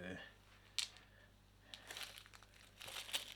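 A plastic bag crinkles and rustles as a model kit is unpacked, soft close crackles and a couple of sharp crisp snaps, quiet and intermittent, with a person talking at times.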